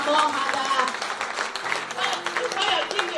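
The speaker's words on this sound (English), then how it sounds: "Clap your hands to Jesus." A church congregation claps hands in praise, a busy, continuous spread of clapping and crowd noise with voices mixed in, fairly loud throughout.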